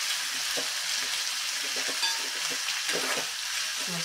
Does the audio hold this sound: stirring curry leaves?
yes